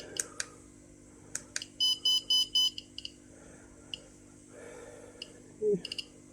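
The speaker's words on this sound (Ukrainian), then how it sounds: "Миттєво спрацювала сирена за одну наносекунду." A handheld dosimeter's radiation alarm lets out a burst of rapid, high, pulsing beeps, with scattered single chirps and counter clicks before and after, close and fairly loud.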